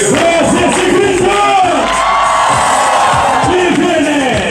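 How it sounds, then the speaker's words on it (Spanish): A crowd at a tropical pool party aboard the cruise ship Sovereign yells together on cue, a loud sustained roar of shouts and whoops with overlapping voices and music-like hum beneath, continuous for several seconds. "A la cuenta de tres para escuchar un grito fuerte."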